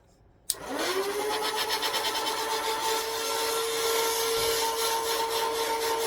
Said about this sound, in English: When I turn the switch on, the gun would rev.